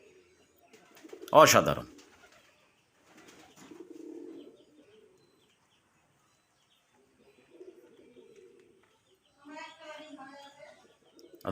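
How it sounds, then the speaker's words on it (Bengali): Desi colouring golla pigeon cooing while turning around, low soft coos in a few short bursts, with a loud exclamation near the start and brief chirpy calls toward the end. "ঘুরে ঘুরে ডাকতেছে ঘুরে ঘুরে ডাকতেছে"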